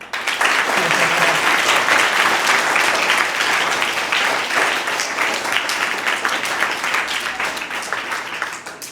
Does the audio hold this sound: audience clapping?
yes